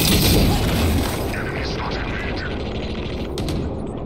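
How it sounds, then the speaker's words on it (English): A flashbang ability goes off in Valorant, a loud burst opening a dense wash of gameplay noise with mechanical clatter, while an in-game voice talks throughout. "Flashbang."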